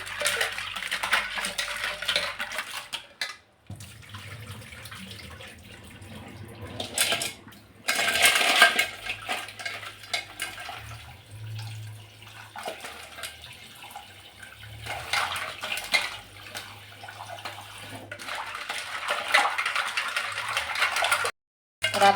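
Running water splashes steadily while raw crabs are rubbed and scrubbed clean by hand in a kitchen, with scattered clinks and a brief pause near the middle.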